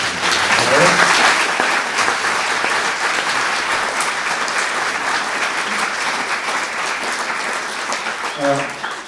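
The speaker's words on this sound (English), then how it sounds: "join me, friends, in another round of applause" A lecture audience gives a loud, sustained round of applause, dense and continuous for several seconds and slowly tapering, with a brief voice emerging near the end.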